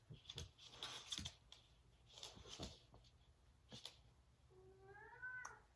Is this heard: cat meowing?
yes